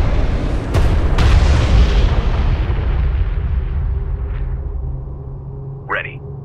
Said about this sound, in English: One of our turrets is taking fire.